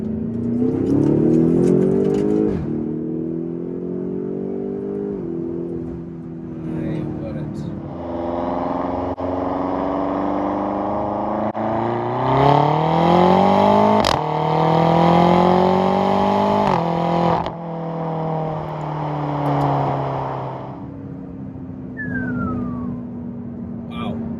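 A 580 bhp BMW X6M F86 SUV in Sport Plus accelerates hard through second gear, its engine note rising in long sweeping pulls with gear changes, loud and close, while someone talks over parts of it.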